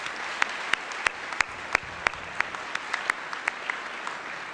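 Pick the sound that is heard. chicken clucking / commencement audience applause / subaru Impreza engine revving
commencement audience applause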